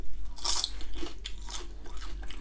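Crisp bites and crunchy chewing of oven-baked onion rings, several sharp crunches close to the mic over a few seconds, no talking.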